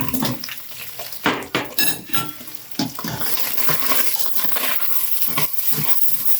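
Ground beef and onions cooking in a pan for shepherd's pie, loud spoon clatter and scraping against the pan early on, then a steady close sizzle with no voices.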